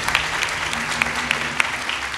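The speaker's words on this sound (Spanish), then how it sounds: "Un gran aplauso para la pareja de la bachata" Applause from an audience at a live comedy show with a contest, a dense crackle of clapping with a few sharp louder claps over a low hum, steady for about two seconds.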